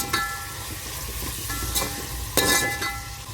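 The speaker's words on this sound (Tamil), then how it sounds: "ஒரு நிமிஷம் நல்லா புதினா கொத்தமல்லி வதங்கட்டும்." Fresh mint and coriander leaves frying in a pan for chicken biryani, a steady close sizzle with a few louder stirring bursts, no voices.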